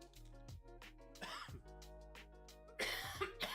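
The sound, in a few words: cough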